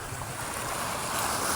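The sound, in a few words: sea waves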